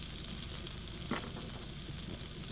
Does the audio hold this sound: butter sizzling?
yes